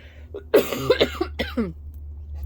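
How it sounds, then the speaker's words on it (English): A few sharp, close coughs in quick succession from a person recovering from COVID, loud against a steady low hum. "I'm still coughing a little bit from COVID"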